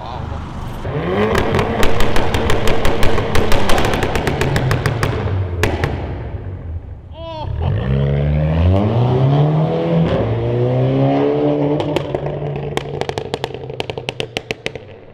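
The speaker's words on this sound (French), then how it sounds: "Tu me sors des petites flammes ou quoi, Jimmy?" Tuned car revving hard inside a tunnel, its exhaust popping and crackling with flames in sharp rapid bursts between loud engine swells, with people talking and exclaiming throughout.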